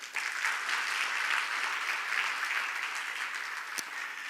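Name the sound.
audience applause celebrating a store opening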